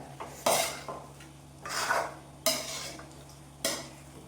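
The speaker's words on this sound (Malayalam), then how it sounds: "ചിക്കനും അരപ്പും എല്ലാം കൂടെ ചേർത്ത് നമുക്ക് നന്നായിട്ടൊന്ന് ഇളക്കാം" A spoon scrapes and stirs chicken coated in spice paste in a pan, four rough swishing strokes at a steady rhythm, close and clear over a faint background hum.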